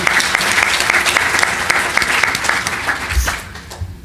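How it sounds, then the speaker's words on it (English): A crowd claps loudly and steadily for several seconds at the end of a political debate, then the applause thins out and fades toward the end. "give yourself a round of applause"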